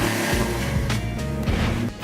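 A hot rod Oldsmobile 442 muscle car engine fired up and running: a deep, rumbling idle with uneven pulses, held close and loud for about two seconds.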